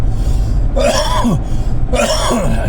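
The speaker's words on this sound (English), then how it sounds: "Excuse that cough, guys" Two harsh, close coughs, about a second apart, each a short rasping burst with no talking.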